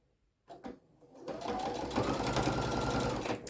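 Sewing machine stitching fabric for a welding cap, a few short taps at first, then a steady close mechanical whirring run of stitches for about two seconds before stopping.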